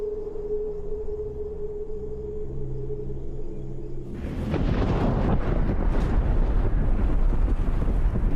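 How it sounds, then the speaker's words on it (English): A volcanic crater erupts, the explosion shattering its lava dome: after a steady low hum, a sudden loud broadband roar bursts in and rumbles on with crackling, gusting turbulence. "The explosion shatters the dome, sending chunks of lava away at supersonic speeds"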